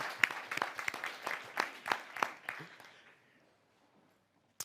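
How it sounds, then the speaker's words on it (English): Conference audience applause in a hall, a burst of individual claps that starts fairly strong, thins out and fades to near silence after about three seconds, followed by one isolated late clap. "We can clap."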